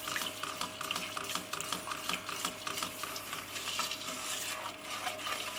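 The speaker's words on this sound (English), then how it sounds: "Give that a stir." A spoon stirs a condensed milk mixture in a pan on the stove, a quiet, continuous scraping and swishing with faint clinks against the metal.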